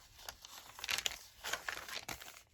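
Baking paper and old music paper crinkle and rustle as they are handled up close, with irregular crisp bursts of crackling and a few soft tearing-like scrapes.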